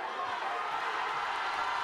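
A crowd at an amateur MMA fight cheers in a steady roar of voices at moderate distance. The noise stays sustained, with a commentator's voice over it.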